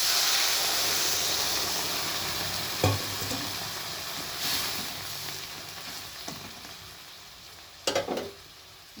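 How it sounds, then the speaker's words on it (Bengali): Sizzling hiss from a hot pan of fried egg, Maggi noodles and vegetables after water is poured in, a loud steamy burst that slowly fades, with a few stirring clinks and scrapes near the end. "এবার আমি জল দিয়ে দিচ্ছি।"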